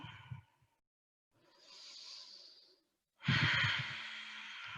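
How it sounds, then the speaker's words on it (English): Deep Ujjayi breathing during yoga practice: three slow, close breaths, each a hushed, throaty rush of air, the last the loudest and most forceful, separated by brief silences. "Ujjayi breathing, look towards your toes"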